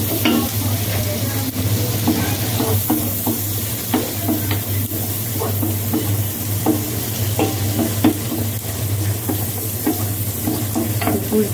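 Chopped egg and garlic stir-fried in a pan for a Chinese-style restaurant dish: a steady loud sizzle broken by frequent scraping clacks of a spatula stirring, with a constant low hum beneath and no talking.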